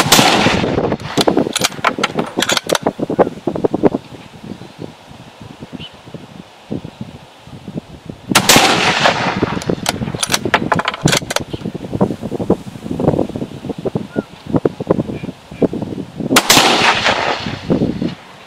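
A GA Precision Non Typical hunting rifle with a thin barrel fires three rounds of 139 grain Lapua ammunition outdoors in strong, gusty wind. Three loud, sharp reports come several seconds apart, with steady wind noise in between.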